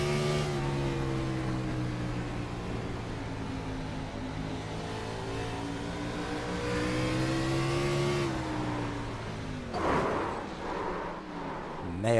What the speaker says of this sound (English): Let's ride on board and listen to the throttle.